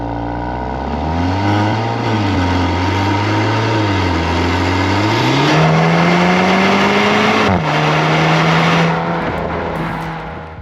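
A VW Tiguan R with a four-tailpipe Akrapovic exhaust revs and drones loudly for several seconds, its exhaust pitch rising and falling, then settling into a steady throaty rumble.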